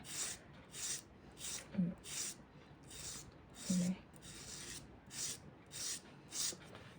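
Short rhythmic scraping strokes of a nail file across a fingernail edge while preparing nails for gel polish, about ten quiet, evenly spaced passes close up with no talking.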